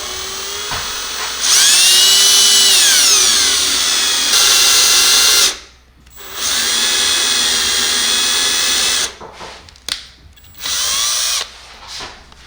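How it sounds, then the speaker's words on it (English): Power drill boring holes to mount an explosion-proof blue forklift light: loud, close high-pitched whine that rises and holds, stops briefly, then resumes in shorter bursts separated by pauses. "and slowly start your drilling."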